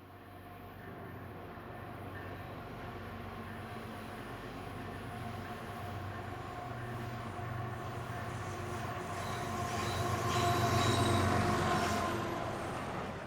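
Canadian National locomotives haul a freight train over Roundstone Creek near a short tunnel in Kentucky, a steady loud rumble with engine drone and rolling wheel noise that swells as the train nears, then stays heavy and close throughout.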